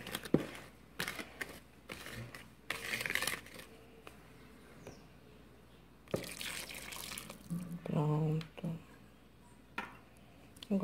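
Hot water poured into chocolate cake batter for a Prestígio volcano cake makes quiet, intermittent splashing and pouring bursts in a kitchen, with someone talking between them.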